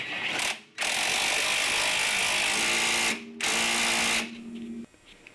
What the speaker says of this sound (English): I use a torque gun to shrink it and you'll see the spring compress.